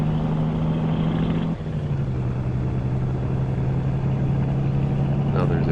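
A truck engine in a farming game drives past at a steady low drone, with a sharp shift partway through as a different engine tone takes over. The noise is continuous and fairly loud, with no voices over it.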